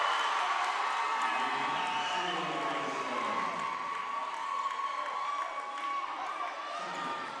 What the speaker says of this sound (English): It's the crowd going very crazy back and forth with each other